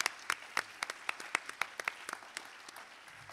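Sparse, scattered hand claps from a small audience at a Silicon Valley business and technology forum debate, quiet and somewhat distant, tapering off irregularly over a few seconds.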